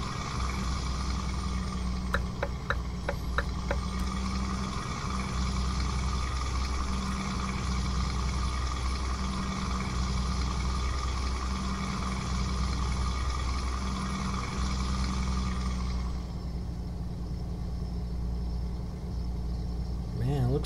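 Mercedes-Benz Actros truck engine in Euro Truck Simulator 2 hauling used packaging, a steady low diesel drone holding under continuous talk, with a few brief clicks early on and a higher whine that fades out near the end.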